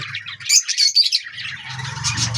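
A pair of adult pet birds, a female and a male, chirp and squawk in busy bursts up close, with high shrill calls stacked over a lower buzzy chatter that returns near the end.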